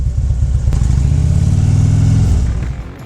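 A group of Harley-Davidson motorcycles riding through Utah, a steady, loud engine rumble with a brief clatter, holding even before easing off near the end, with no talk over it.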